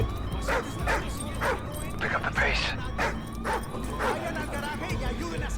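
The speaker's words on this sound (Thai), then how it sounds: "เฮ้ยหมาเห่า" Dog barks and yelps from the Call of Duty: Ghosts video game on PS4, short repeated bursts over a steady game soundscape with engine-like rumble.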